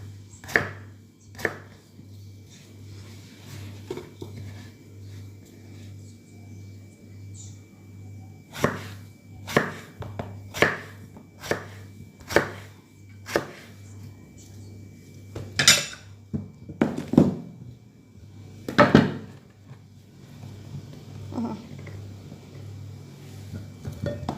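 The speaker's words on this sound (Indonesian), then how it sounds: "Kita potong menjadi 4 bagian." A knife chops winter melon into four large chunks on a board for soup: a dozen or so sharp, close thuds at irregular intervals, some in quick clusters, over a low steady hum.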